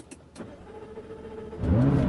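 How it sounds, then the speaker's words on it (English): Push-button start of a warm McLaren 570GT, its engine firing into life near the end after a quiet, faintly clicking lead-in, settling into a loud, steady low idle. "push the start button, and the car will fire into life"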